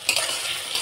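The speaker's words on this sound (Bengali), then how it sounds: "এবার আমি টমেটো আর পেঁয়াজ কাটাটা তেলে দিয়ে দেবো" Chopped tomato and onion with salt hiss and crackle as they fry in hot oil, a steady close sizzle with a few scraping stirs near the start.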